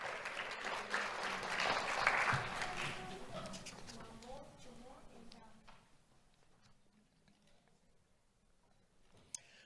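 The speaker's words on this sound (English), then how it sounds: "Let's have a round of applause for Paula Mares." An audience at a Do The Right Thing awards ceremony applauds for an honoree, a moderately loud burst of clapping that peaks early and gradually fades into quiet room tone.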